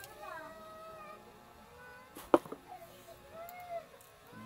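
A pet cat meows several times in drawn-out, wavering calls close by, with a sharp knock or thud partway through and faint voices in the background.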